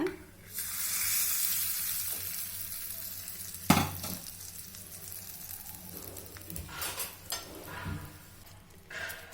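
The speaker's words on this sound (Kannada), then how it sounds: "ಕರಿಬೇವು ಚಟ್ನಿಗೆ ಸೇರಿಸ್ಕೊಳ್ಳೋಣ" Curry leaves sizzle and crackle in hot oil in a pan for garlic chutney, a steady close frying hiss broken by sharp spatters and spoon scrapes as they are stirred.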